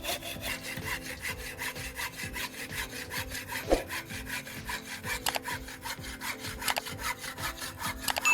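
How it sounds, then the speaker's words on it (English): A hand saw cuts through a piece of wood clamped in a vise, with steady back-and-forth rasping strokes in an even rhythm, close and continuous, with no speech. "I'm using a saw to carefully cut along my mark"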